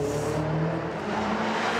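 A car accelerates, its engine note climbing steadily in pitch at moderate loudness for a couple of seconds, with no voices.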